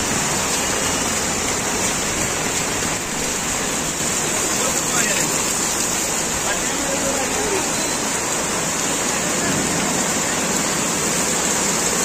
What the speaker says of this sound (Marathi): हा पाऊस बघा